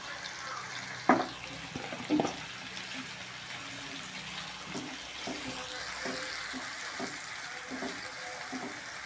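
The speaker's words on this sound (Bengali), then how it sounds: "তার জন্য কিছু পেঁয়াজ বেরেস্তা করে নিচ্ছি।" Sliced onions frying in oil for biryani birista, a steady faint sizzle with soft clinks and stirring scrapes in a home kitchen, two sharper knocks early on.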